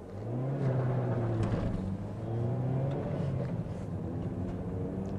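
A Ford Figo Aspire accelerating in first gear from inside the cabin with the AC on, the engine drone rising steadily and loud throughout, with no talk.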